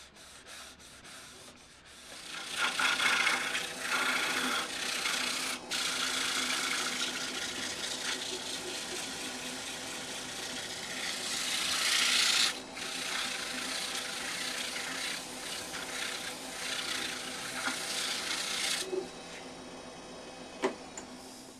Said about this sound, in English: Now it's wood wax 22 and a bit of a buff to give it some shine.